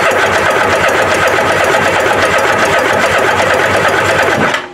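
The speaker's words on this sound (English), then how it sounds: "we'll crank the engine, see what it gets" A Kawasaki ZXI 1100 personal watercraft engine cranks with a no-spark fault, giving a steady, loud, rapid mechanical whirring churn close by that runs unbroken for several seconds, then cuts off abruptly at the end.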